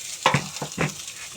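A fish head sizzles and crackles in a frying pan, with a few short bursts as it is stirred or turned, close and fairly quiet, with no talking.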